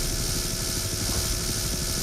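Helicopter in the video game BattleBit, a loud, steady rotor chop and engine drone heard close and continuous with no talking.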